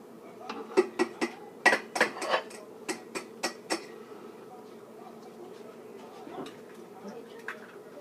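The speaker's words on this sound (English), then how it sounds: "So now I'm just like cracking the 4 eggs." Four eggs cracked against a bowl for brownie batter, a quick run of sharp taps and cracks in close succession, then quieter shell handling, near and clear, without talk.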